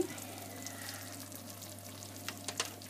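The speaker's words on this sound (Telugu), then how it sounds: "నెయ్యి పెట్టుకొని అందులోకి క్యాష్యూస్, బాదం వేసుకోవాలి." Cashews and almonds frying in ghee in a pan for beetroot halwa, a soft continuous sizzle with a few brighter crackles near the end.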